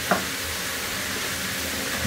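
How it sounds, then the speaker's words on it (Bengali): Chopped onions and tomatoes fry for a meat sauce, producing a dense, even sizzle with a couple of light utensil clinks at the start and end, close and loud. "এইটাকে আমার এর সাথে একটু ভেজে নিতে হবে"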